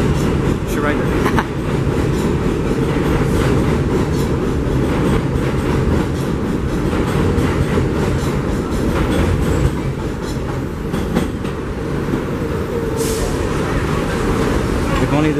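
Interior ride on an R1-9 subway shuttle train running between Brighton Beach and Ocean Parkway, with a steady loud rumble of wheels on rails and faint clicking throughout, and voices murmuring under the noise.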